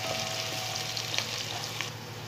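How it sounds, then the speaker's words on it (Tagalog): Chopped onion frying in hot oil in a cooking pot for an Arabic lentil and meat stew, giving a steady soft sizzle with faint crackles throughout, close and without speech. "Sa ating kaserola, naglagay ako ng mantika at isunod na natin ang ating sibuyas."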